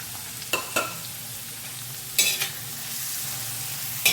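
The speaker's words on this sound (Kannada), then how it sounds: "ಇವಾಗ ಹೆಚ್ಚಿಟ್ಕೊಂಡಿರುವಂಥ ಕ್ಯಾಪ್ಸಿಕಮ್ ಹಾಕ್ಕೊತಿದ್ದೀನಿ" Finely chopped capsicum fries in a pan for pav bhaji, a steady soft sizzle broken by a few sharp scraping stirs of a spatula, close and without voices.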